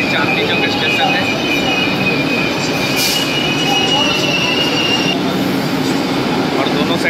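A Kolkata Metro train rumbles loudly at the crowded Chandni Chowk station with trains on both sides, its wheels squealing in a thin, high whine over a steady roar, while voices murmur underneath.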